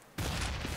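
Sudden loud burst of gunfire from a Counter-Strike esports match, a near, dense blast that cuts in abruptly and sustains until the end.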